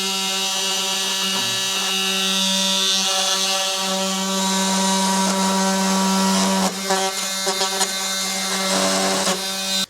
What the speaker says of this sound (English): I'm just going to use my reciprocating multi-tool and just go ahead and get this cut out